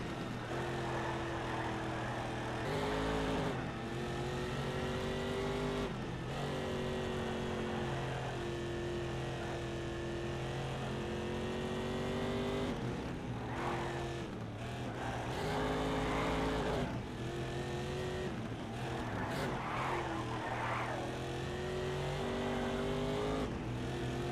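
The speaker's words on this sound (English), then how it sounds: "Now we're taking on a beast. The Honda NSX." A Honda NSX race car engine in a racing video game, a sustained loud harmonic drone that revs up and down with gear changes and brief drops across a long stretch, with no talk.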